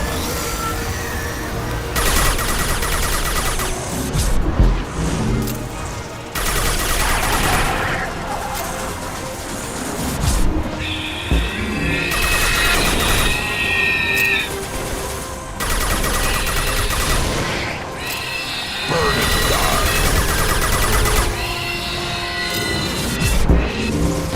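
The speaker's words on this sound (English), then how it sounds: "Firing a high-impact shot." High-impact gunfire in Mass Effect 2, repeated loud bursts of shots and crashing impacts in several volleys separated by short pauses, mixed with game sounds and a voice talking.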